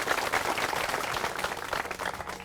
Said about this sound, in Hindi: औरों से गुजारिश है कि जोरदार तालियों के साथ स्वागत कीजिए इनका